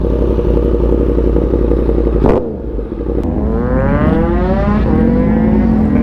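Yamaha MT-10 and Triumph motorcycles on a group night ride roar loudly up close. One engine revs hard, drops off sharply, and then climbs again in rising, throaty pulls.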